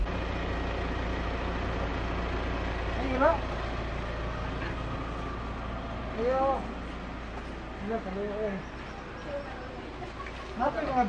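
A vehicle engine idles and rumbles low and steady while passengers ride, with intermittent voices talking over it and a few faint clattering sounds.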